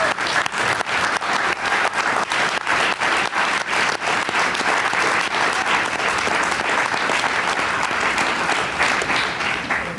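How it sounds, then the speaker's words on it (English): Steady, dense applause from a large audience at a caucus event, loud and sustained throughout with no talking over it. "Y'all clapping for God right now"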